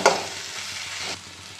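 Poppy seed paste is stir-fried in a pan for rui posto, a Bengali fish dish: a spoon scrapes at the start, followed by a soft, steady sizzle that fades slightly near the end.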